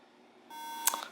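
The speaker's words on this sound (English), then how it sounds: "Okay, it's still beeping. I'm trying to turn it off, to no avail. And all it does is beep!" A MacBook Pro laptop beeping continuously, a steady electronic tone that starts partway in and holds on, loud and close, with no one talking.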